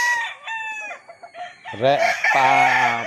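A sweater-cross gamefowl rooster gives a few short clucks, then breaks into a loud, close crow with strong harmonics that carries through to the end.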